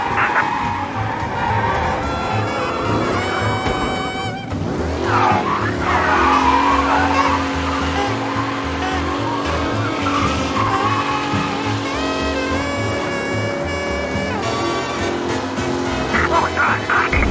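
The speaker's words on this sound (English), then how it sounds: "Officers reporting a race car driving at speed through the city." Race car tearing through city streets at speed in the video game Mafia Definitive Edition, its engine roaring steadily with repeated tire skids and squeals, loud and continuous over a musical backdrop.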